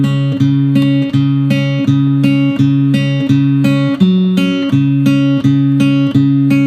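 Guitar playing the chorus of IDK You Yet as a repeating pattern of plucked notes, evenly spaced bright attacks that ring and decay, played cleanly and close with no voices.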